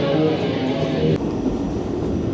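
New York City subway train riding underground, a steady loud rumble and rattle of the car with a brief sharp click midway, continuous and close with no talk.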